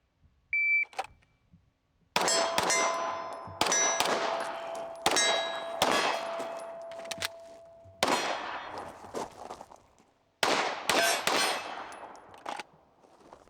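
Suppressed Ruger Mk IV 22/45 .22 pistol firing in quick strings, each muffled shot followed by the sharp ringing clang of steel targets, several bursts with short pauses between.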